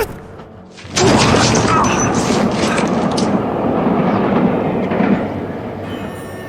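A moving train rumbles along the rails, starting after a brief quieter moment and then holding a loud, steady roar with faint rhythmic clatter, standing alone without voices.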